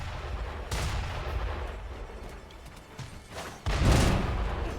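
Enemy gunfire in the video game Sekiro, heard as a few loud, sharp shots and blasts spread through the moment, with a heavier burst near the end.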